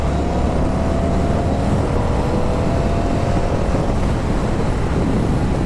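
An Indian FTR 1200 motorcycle accelerating in sixth gear to overtake from about 65, a dense steady roar mixed with heavy wind rush, loud and constant from start to finish.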